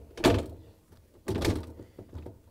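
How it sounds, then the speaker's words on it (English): An LG/Kenmore refrigerator door is pushed shut, producing two dull, close thunks about a second apart, with a soft rattle trailing after. "and now we can close the door"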